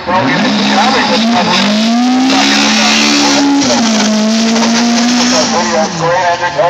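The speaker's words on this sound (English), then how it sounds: "The car is so sideways on the way down to turn one. Really is laying down plenty of rubber." A car slides sideways down toward turn one at a Limerick car show track event, its engine roaring loud and close with a rising and falling pitch and tyres laying rubber, while a commentator talks over it.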